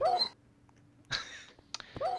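Dogs whimpering in a video game, short whining yelps in a few separate bursts with pauses of quiet between them, close and fairly clear, no talking.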